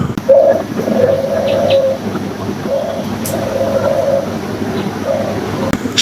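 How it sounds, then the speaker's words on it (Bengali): Birds call in the early morning on a cloudy day, repeated cooing notes in short phrases over a hushed outdoor background with light rustling. "সকালবেলা মানুষের আগে জেগে ওঠেন পশু পাখি প্রাণীরা।"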